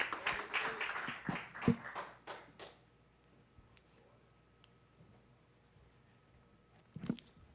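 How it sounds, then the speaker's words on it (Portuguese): Church congregation clapping in praise to the Lord, a burst of sharp claps that quickly thins out into quiet, with a couple of isolated claps later. "Vamos dar uma salva de palmas ao Senhor"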